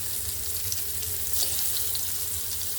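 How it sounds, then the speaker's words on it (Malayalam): Ivy gourd (kovakka) pieces fry in a pan, a continuous dense hiss close by, steady and fairly loud with no talking. "ഇത് നമുക്ക് ഫ്രൈ ചെയ്തെടുക്കാം."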